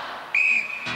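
A single sharp, piercing referee's whistle blast starts a celebrity Gladiators event, held for about a third of a second over arena crowd noise.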